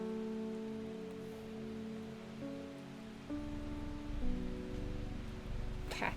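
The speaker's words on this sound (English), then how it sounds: "it's a rainy, thundery day" Steady rain patters in the video game Strange Horticulture, a soft continuous hiss beneath sustained, gently shifting musical tones, with a brief brighter splash near the end and no voices.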